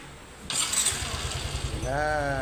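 A Yamaha MiO i125 scooter engine cranks into life and settles into a steady, close idle with a rhythmic putter, rising briefly in pitch near the end.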